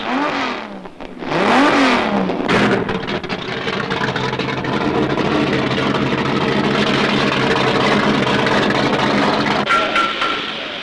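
A new all-American stock sports car, body beefed up for a 1968 Craig Breedlove 24-hour speed and distance record attempt, revs up twice in rising sweeps, then settles into a loud, steady engine roar that holds for several seconds.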